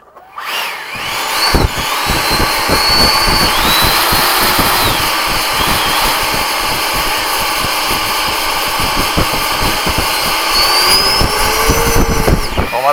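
An F-15 jet engine at sunset during an afterburner demo: a loud, roaring, continuous blast with a harsh crackling texture and rising whine, sustained at high volume after a quick start.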